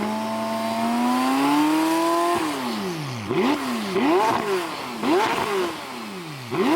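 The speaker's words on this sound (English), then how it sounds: "this does have the sports exhaust, and I'll let you guys go ahead and listen to that" Sports exhaust of a 2019 McLaren 570S Spider, a long rising rev held high, then four sharp blips that flare and drop back in quick succession, loud and close with no talk.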